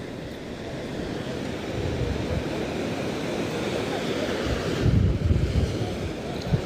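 Sea waves wash onto a beach in a continuous rushing roar, with wind buffeting the microphone throughout and a louder surge near the end. No voices are heard.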